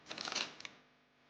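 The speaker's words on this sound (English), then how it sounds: "You shuffle again after Powell." A quick riffle of playing cards being shuffled, a fast flurry of crisp flicks followed by a couple of taps, close and quiet.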